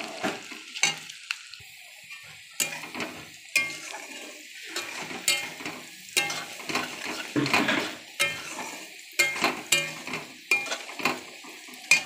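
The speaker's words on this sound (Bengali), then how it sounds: "এর মধ্যে হালকা করে একটু লবণ দিয়ে দিলাম, পেঁয়াজটা তাড়াতাড়ি ভেজে যাবে" Onions sizzle in hot oil with a pinch of salt for mutton biryani, close up, while a spoon stirs and knocks against the pan in irregular bursts throughout.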